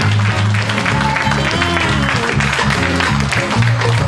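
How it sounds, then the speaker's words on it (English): A church congregation claps hands in praise, with steady applause under loud sustained organ or keyboard chords. "Let's give God a hand clap of praise"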